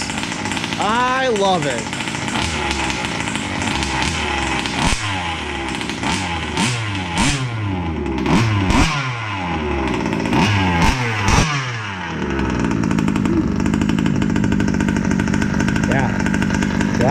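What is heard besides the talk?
two-stroke engine running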